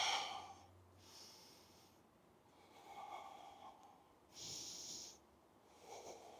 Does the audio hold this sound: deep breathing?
yes